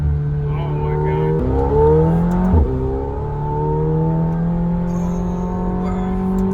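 A McLaren sports car engine revs up and settles into a loud, smooth drone nearby, with rising pitch sweeps from gear changes; excited voices talk over it.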